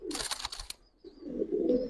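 Giribaz pigeons of the Palla line coo and call at close range in two short bursts separated by a brief pause, with some rustling and a few faint higher chirps.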